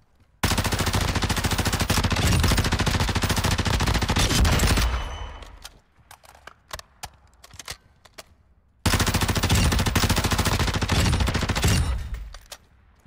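Sustained automatic gunfire in the Call of Duty DMZ video game, two long loud bursts of rapid shots separated by a few scattered single shots and quieter gaps, with no talking.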